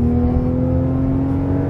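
Lexus GS300 fitted with a full exhaust, a loud, close, steady low engine drone with a sustained rev and no talk over it.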